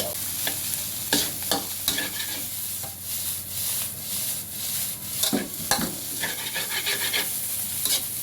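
Shallots are stir-fried in plenty of oil with steady scraping strokes of a spatula over a loud continuous sizzle, close and busy throughout with no voices.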